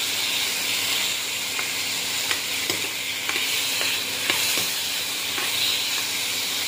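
Tomatoes stirred and sautéed in a pan for ginisang munggo, a steady close sizzle and hiss with scattered clicks of a utensil scraping and stirring, no talk.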